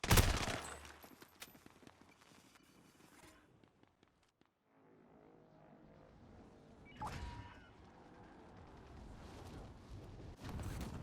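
Gunfire bursts from a shotgun loadout in a video game, loud at the start and again near the end, with quieter rattling and ambient game noise in between.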